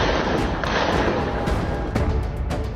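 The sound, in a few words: gunfire on street at night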